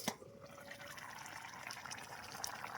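Katla fish curry bubbling in a pot over a wood fire, a soft, steady simmer of small bubbles and faint liquid gurgles, quiet and continuous with no voices.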